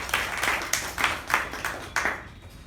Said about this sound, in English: A big round of applause for DTM Udanka and Toastmasters Sindhushree